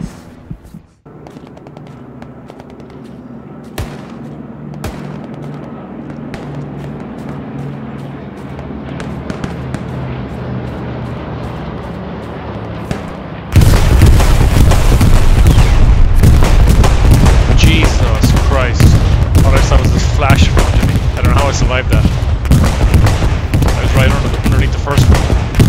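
Gunfire in the World War II shooter Hell Let Loose: a quieter stretch of scattered shots gives way halfway through to loud, dense machine-gun and rifle fire with booms, with voices talking over it.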